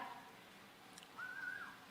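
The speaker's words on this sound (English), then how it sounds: "It's a whistle." A single faint whistle rises briefly to a sustained tone for about half a second over quiet room background.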